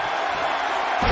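A packed Australian arena crowd at a WWE wrestling show gives a sustained, dense roar, swelling louder near the end and heard without any clear talking over it.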